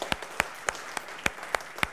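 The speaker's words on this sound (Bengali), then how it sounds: "সবার জন্য জোরে একটা করতালি।" Sparse, individual hand claps ring out one at a time from a small audience at a school quiz award ceremony, spaced roughly evenly over a couple of seconds rather than forming full applause.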